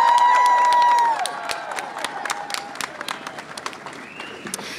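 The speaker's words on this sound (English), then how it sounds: "So let's give them a round of applause." An outdoor crowd at the Virginia March for Life rally in 2023 applauds members of a Republican caucus, with scattered clapping and cheers following a brief high whistle-like tone at the start.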